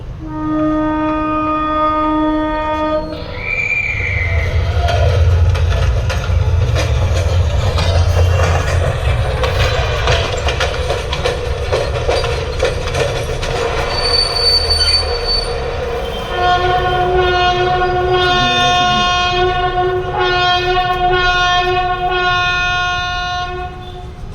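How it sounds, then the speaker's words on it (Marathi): A passenger train pulls slowly out of a platform in the morning behind its engine, its horn blaring in long loud tones, with squealing wheels and rumbling wagons, and the horn sounding again as it gathers pace. "हॉर्न दिला आहे आणि हळूहळू गाडी निघाली"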